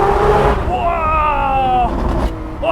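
A Lamborghini Aventador SVJ with all-wheel drive drives hard through corners and into a tunnel, its loud engine drone sliding down in pitch before easing near the end.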